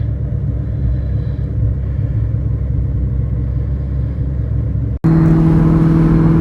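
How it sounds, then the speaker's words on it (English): A Terminator Cobra's engine idles steadily while warming up, a low, constant rumble close by, then abruptly jumps to a louder, higher-pitched hum near the end as it is revved. "I'm just reading this little map while my car warms up a little bit."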